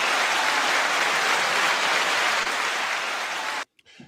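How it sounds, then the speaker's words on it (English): Dense applause from a large audience fills the clip steadily, then cuts off abruptly near the end, leaving a few faint scattered sounds. "Now second applause."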